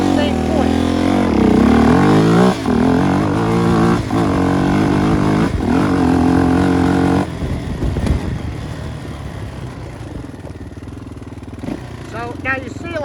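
A 400cc motorcycle held at high revs, then launched hard in first gear into a wheelie, the engine note dropping and changing as it pulls away, loud and close throughout.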